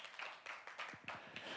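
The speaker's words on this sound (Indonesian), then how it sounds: "Tepuk tangan yang meriah buat Tuhan kita" A church congregation breaks into applause during a sermon, a burst of mixed clapping that rises and thins over a second and a half, moderately loud with irregular individual claps standing out.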